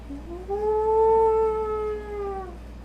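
A single long wolf-like howl, clear and tonal, rising then holding steady before fading, summoned dire wolves in a tabletop fantasy game scene, alone without talk.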